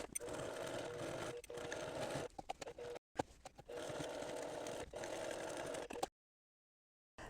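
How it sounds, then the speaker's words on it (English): A sewing machine edge stitches close to the edge of a dress pocket, running in two long steady bursts with a brief pause between and stopping near the end. "I'm going to edge stitch this along the edge here and then double stitch it in just to reinforce that pocket"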